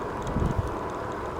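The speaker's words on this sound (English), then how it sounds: "Well, it's pretty windy out here today" Gusty wind buffets an outdoor microphone while riding a bumpy rural road on a Philodo Jumbo AWD e-bike, with steady broadband rumble and a few stronger low gusts.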